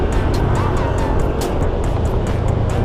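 A motorcycle engine drones loud and close throughout, a steady roar with regular ticking pulses riding on top, no pass-by swell or fade.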